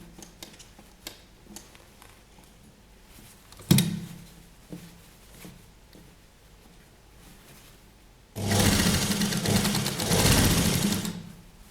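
A sewing machine stitches elastic onto a children's Patiala dress, a loud steady run of stitching near the end that follows quieter handling clicks and taps.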